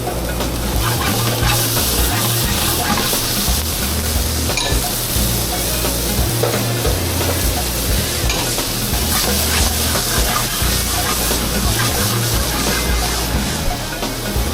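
Capers sizzle loudly in a frying pan alongside blistered grape tomatoes, a constant crackling, spattering hiss with pan and utensil noise underneath, no talking over it.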